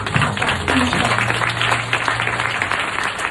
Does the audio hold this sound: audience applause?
yes